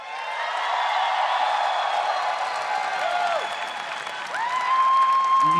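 Audience at an esports match between G2 and ANX applauds and cheers for a player, a broad wash of clapping with scattered whoops and a voice or two rising through the sustained noise.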